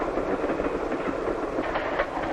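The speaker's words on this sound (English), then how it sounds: "And sometimes the train goes through the mountain itself," A passenger train runs steadily on its tracks through mountain country, a continuous close rumble with faint rhythmic clatter and no pauses.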